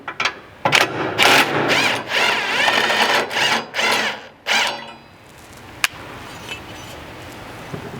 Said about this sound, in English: You'll need to grab a 14 millimeter socket and remove the bolt up here for this factory drive shaft